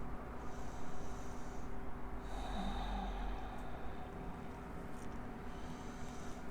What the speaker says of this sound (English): Just take a couple more breaths here.